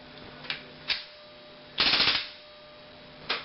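Airsoft blowback pistol firing, heard as several sharp, close cracks spaced apart, one louder burst with rapid rattling slide clatter in the middle, over a faint steady hum.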